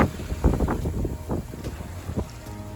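Wind buffets the microphone steadily aboard a sailboat at about 12 knots, with low rumbling gusts, a few louder bursts, and faint water movement underneath, near and continuous throughout.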